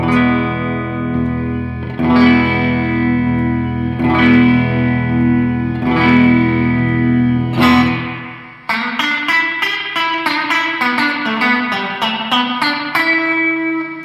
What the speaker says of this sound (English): Also engage all of the echoes at the same time, and it gives a bit of a chorus sort of sound.